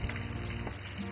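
Fish frying in hot oil until crisp, a steady close sizzle with soft crackle running through the short moment without any voices.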